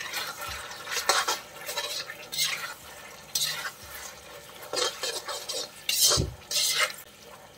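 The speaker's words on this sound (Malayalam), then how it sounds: "നന്നായിട്ടൊന്ന് മിക്സ് ചെയ്യാം." Fried cauliflower is stirred into a sauce in a pan for gobi manchurian, with repeated scraping and clattering of a spoon against the pan and a faint sizzle between strokes.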